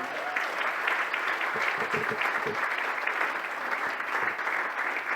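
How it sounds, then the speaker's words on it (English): Dense, steady applause from a gala audience honoring a coastal protection group's chair, sustained at even volume throughout with a few low thumps underneath. "Please give Mike Donohue a big round of applause."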